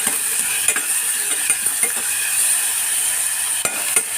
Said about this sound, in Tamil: தக்காளி நல்லா வதங்கிக்கிட்டோம்